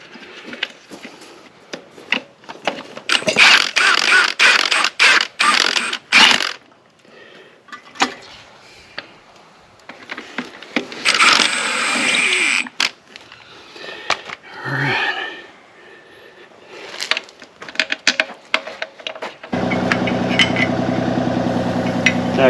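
Bolts being fitted and tightened on a 1977 Trans Am, irregular metallic clicks, ratchet rasps and clanks close up in a garage, with a low hum near the end and some talk.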